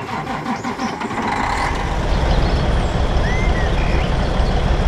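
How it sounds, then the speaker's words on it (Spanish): A Kodiak truck engine in American Truck Simulator cranks and fires up, then settles into a deep, loud, steady diesel rumble with faint hiss and squeal above it. "escuchen ese sonido de ese motor"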